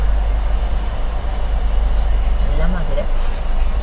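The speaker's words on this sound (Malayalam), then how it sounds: "അങ്ങനെ ഞങ്ങളുടെ ട്രെയിൻ വന്നുകൊണ്ടിരിക്കുകയാണ്." A passenger train runs near Farook bridge with a loud, continuous rumble and faint rail squeals, while people talk over the noise.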